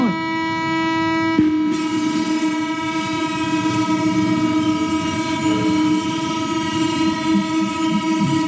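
At a flag-off ceremony, a departing passenger train sounds a long, loud, steady horn over rumbling wheels and rail noise, close by and continuous throughout.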